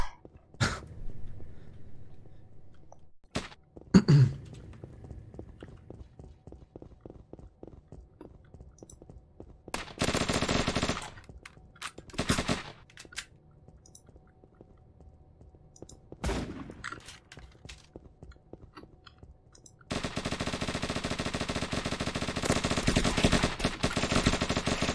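Gunfire in a first-person shooter game: scattered single shots and short rapid bursts, sharp and loud, separated by quiet gaps, ending in a longer sustained burst of noise, with no voices.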